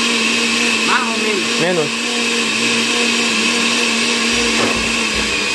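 A blender runs steadily with a constant loud whirring hum throughout, while people talk briefly over it.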